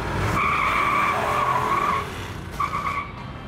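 A 1964 Ford Galaxie 500 with a 427 engine and four-speed gearbox squeals its tires in a loud, sustained burnout squeal of about two seconds, then a shorter second squeal after a brief dip.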